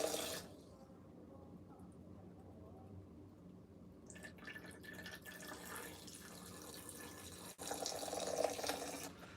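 Distilled water pours and trickles in a kitchen, a soft liquid splash that gets fuller and louder toward the end.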